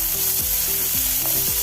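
Chopped onion frying in hot oil with popping mustard seeds for a Kerala-style tadka rice, a loud, dense, continuous sizzle close by with no voices, under faint background tones.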